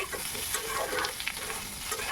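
Brown potatoes fry in oil in a pan, a soft continuous sizzle with faint crackles and stirring scrapes, steady and fairly quiet throughout with no talking.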